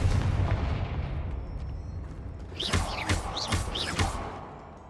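The Confringo fire spell in Hogwarts Legacy fires off several sharp blasts in quick succession, each a bright crack with a whooshing tail over a low ambient rumble.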